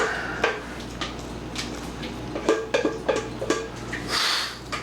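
Cooked spaghetti and beef chunks for a mushroom-sauce dish are tipped into a big bowl at close range, giving a string of soft clatters, wet slides and light dish knocks over a few seconds.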